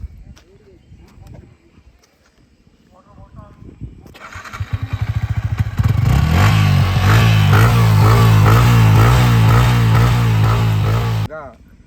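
A Yamaha MT-15 155cc motorcycle is cranked, and its engine catches into a loud, steady, close idle that thrums evenly for several seconds before cutting off. A quieter voice and some handling noise are heard first.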